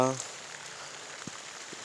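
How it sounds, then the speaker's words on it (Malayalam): Steady light rain patters in a soft, even hiss, with a brief voice at the very start and a few isolated drops ticking through. "ഇപ്പോഴും നല്ല മഴ ഇങ്ങനെ ചാറിക്കൊണ്ടിരിക്കുന്നുണ്ട്"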